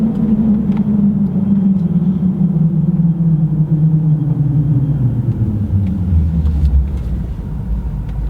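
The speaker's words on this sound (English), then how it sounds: "I'm just actually pulling up now." A car engine rumbles steadily and loud as the vehicle pulls up, its low drone sliding downward in pitch as it slows to a stop.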